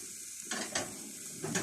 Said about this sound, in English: It's frying out nicely.